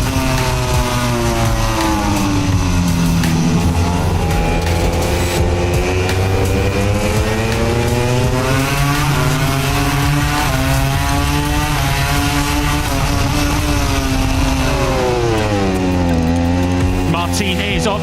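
A pack of MotoGP motorcycles at the Motegi sprint start in Japan, loud engines screaming and rising in pitch together as they accelerate away, a dense wall of overlapping revs throughout with a commentator's voice faintly underneath.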